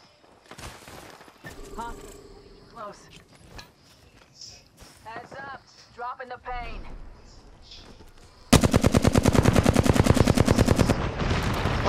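Rapid automatic gunfire erupts in Apex Legends after a stretch of quiet chatter and voices, a loud, steady stream of close shots filling the last few seconds.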